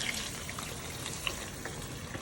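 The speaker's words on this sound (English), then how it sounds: "we're gonna put 4 cups of water in here, right here." Water splashes and trickles into a cooking pot at soup-making time, a faint, steady wash of pouring with small drips, heard alone without talk.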